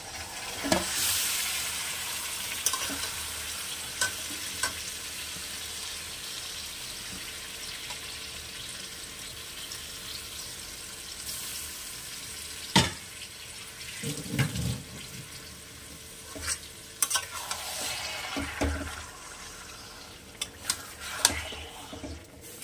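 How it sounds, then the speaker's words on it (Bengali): Marinated chicken goes into frying onions for a korma, giving a long, moderate sizzle with scattered clanks and scrapes of stirring and a few louder bursts, heard close with no talk. "তুলে রেখে আমি এই পেঁয়াজের মধ্যে এই মেখে রাখা মাংসটা দিয়ে দেবো"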